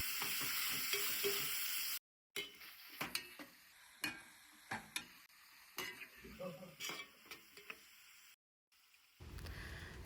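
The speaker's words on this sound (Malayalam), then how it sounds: "അപ്പോൾ ഞാനിത് ഇട്ടിട്ട് കുറച്ച് നേരം ഒന്ന് സോട്ട് ചെയ്തെടുക്കുകയാണ്" Sliced onions, green chillies and coconut pieces sautéing in a pan for a Kerala-style beef bone curry, a close steady sizzle with repeated clinks and scrapes of a stirring spoon against the pan, briefly cutting out twice.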